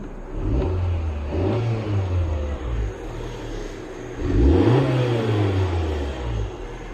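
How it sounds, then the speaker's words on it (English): A stock car's engine revs up twice, the exhaust note rising and falling in a low grumbling sweep each time, steady and fairly close with no talking. "it's got a nice little exhaust note to it"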